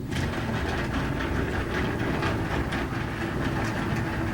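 A National Geographic Hobby Tumbler churns stones in grit, giving a continuous, fairly quiet rattling and rumbling clatter that holds steady throughout.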